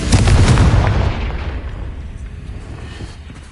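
A Confringo fire spell explodes in the Hogwarts Legacy video game with a loud, close, booming blast that fades over about three seconds into a low rumble. No voices are heard.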